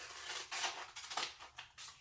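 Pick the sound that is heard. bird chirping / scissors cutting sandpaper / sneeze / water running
scissors cutting sandpaper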